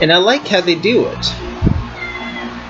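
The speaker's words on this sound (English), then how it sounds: "If you heard a meow over the speakers, over my fan, that was my cat." A person speaks briefly, and a short, faint meow from a cat rises behind the voice and a fan partway through.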